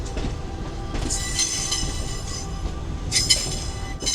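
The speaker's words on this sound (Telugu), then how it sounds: "చాలా పెద్దగా ఉందండి బాబు ఈ ట్రైన్." A Vande Bharat train rumbles at Chennai Beach station, a loud continuous rolling roar with sharp metallic wheel squeals and clinks breaking through twice.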